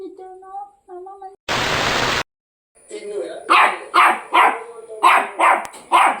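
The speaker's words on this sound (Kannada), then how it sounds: "ಯಾರಿಗೆ ಬೊಗಳುದು ನೀನು?" A small shih tzu dog barks in a rapid series of loud, close yips indoors, following a burst of noise and some talk at the start.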